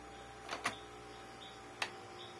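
Faint mechanical ticks and clicks from a stuck Epson L120 printer, a couple of sharp snaps spaced apart, over a steady low hum like a machine idling.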